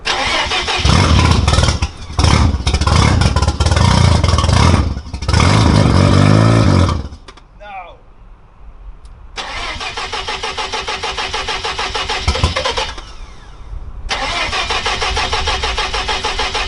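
A Mazda RX-7 engine that sat unused for 23 years cranks loudly and nearly catches in repeated bursts, dropping out briefly in between with a few rough tries before spinning again.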